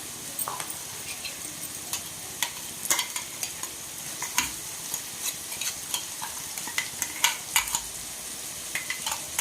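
Crushed ginger and garlic fry in a pan for a carrot fry, with a low sizzle beneath frequent sharp scrapes and clinks of a spoon against the pan, close and irregular, without speech.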